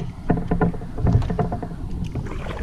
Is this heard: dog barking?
no